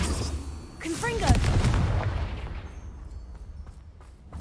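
A Confringo blast spell goes off in the Hogwarts Legacy video game, a loud booming burst with a rising whistle-like streak, followed by a rumbling tail that fades out.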